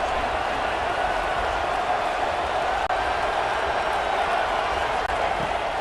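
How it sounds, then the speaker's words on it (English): A college football stadium crowd at Arizona State versus Arizona roaring on a third-down play, a dense, sustained wash of distant crowd noise with no breaks, under a commentator's voice. "Here comes the noise. Is this crowd doing everything they can to help the defense bear down on 3rd down?"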